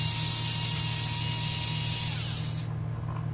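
A Mi cordless screwdriver backs a screw out with a steady, close electric motor whine that stops abruptly near the end, leaving a low background hum.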